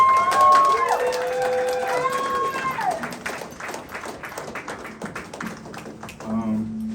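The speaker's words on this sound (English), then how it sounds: "Please give them a round of applause." An audience at an art exhibition opening reception claps in scattered, fairly quiet applause that follows a high melodic sound and tapers off, with voices murmuring through the room.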